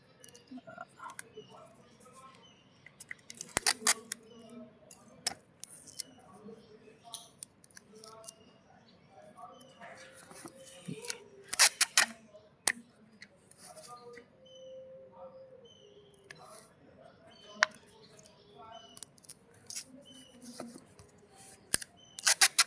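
During a Realme GT2 phone repair, tape is cut and applied, making scattered sharp clicks, snips and crackles that are sparse and close, with a person talking quietly in between.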